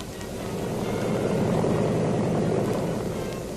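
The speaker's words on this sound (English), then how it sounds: "The first infantry plane is coming in." Military infantry transport plane from 1942 coming in to land, a steady broad propeller-engine drone that holds loud and close, swelling slightly mid-way, with no voices.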